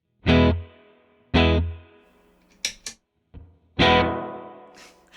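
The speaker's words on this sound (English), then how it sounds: "And just to hear again what just the reverb I'm already working with sounds like." Electric guitar chords struck one at a time through a reverb pedal, with no echo pedal engaged, each ringing out in a long, washy tail, with small picked sounds between them.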